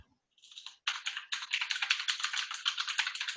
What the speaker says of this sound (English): Look at that keyboard sound.